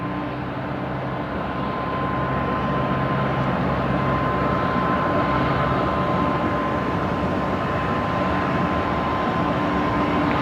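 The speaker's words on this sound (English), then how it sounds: "The A330-300 touching down on runway 19 left." A Vietjet Airbus A330-300 touches down on a runway at Brisbane Airport, heard as a steady, broad roar of engine and rolling noise from a distance that holds evenly throughout, with no talk.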